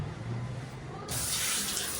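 Water gushes steadily from a tap, starting up abruptly and then flowing loud and continuous.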